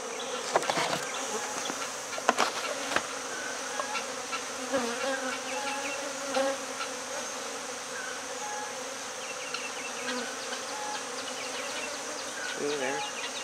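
A swarm of honeybees being hived, a dense continuous buzzing hum close by with individual bees droning past and occasional faint knocks and rustles.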